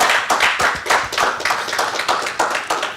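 An audience at a seminar lecture claps in a dense, steady burst of applause, many hands close and loud for the full span with no speech over it.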